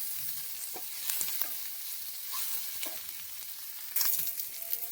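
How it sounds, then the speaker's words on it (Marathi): Whole spices crackle and sizzle in a hot pan for a fish curry masala, a steady close frying hiss with scattered sharp pops and occasional stirring scrapes, no voices. "आता हे मस्त फ्राय करून घ्या सगळं"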